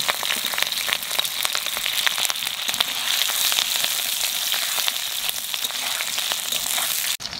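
Green chillies and potatoes fry in hot oil, a loud, dense, crackling sizzle like heavy rain that runs unbroken and close until it cuts off abruptly near the end; no voices.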